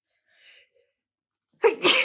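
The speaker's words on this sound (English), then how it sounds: "Sorry, I was going to sneeze." A single loud sneeze, preceded by a short soft intake of breath and a pause, then the sharp burst of the sneeze itself, close up.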